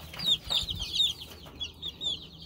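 A hen clucking close by, a string of short bright clucks in an uneven rhythm, fairly faint, with a low background hum and no talk.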